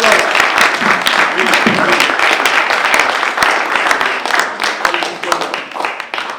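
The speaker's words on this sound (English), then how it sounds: "Give them a round of applause." A loud, sustained round of applause from an audience at a talk, many hands clapping densely with scattered sharp individual claps and some voices underneath.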